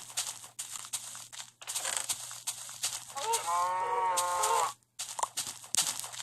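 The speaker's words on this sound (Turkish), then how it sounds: "Ha bak şurada inek var." A cow in Minecraft PE lets out one long, drawn-out moo in the middle, loud and close, among clicky in-game footsteps and block sounds with short gaps.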